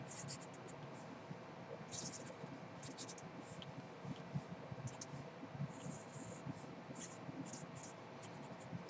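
A pen or marker drawing on a board during a physics lecture, faint intermittent scratchy squeaks and strokes over a low room hum, with no speech.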